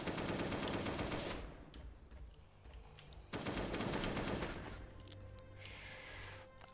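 Sustained automatic AK rifle fire in the video game Last Day On Earth: Survival comes in two long rattling bursts separated by a short lull, loud and rapid with faint clinks between.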